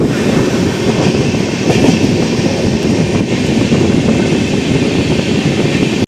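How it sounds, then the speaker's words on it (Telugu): Kanyakumari Express train slowing on the rails near Mungilipattu station, a loud continuous rumble of wheels and carriages with steady clickety-clack heard from on board, no voices. "ట్రైన్ అయితే కొంచెం స్లో అయింది."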